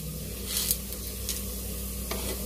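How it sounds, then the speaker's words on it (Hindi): Whole spices, including black and green cardamom, mace and cinnamon, roast in a pan with a close, steady sizzle, broken by a few sharp scraping stirs of a spoon against the pan. "और कड़े मसालों को अच्छे से सेक लेंगे"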